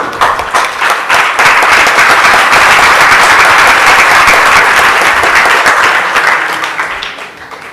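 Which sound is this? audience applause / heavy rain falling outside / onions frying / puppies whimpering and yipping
audience applause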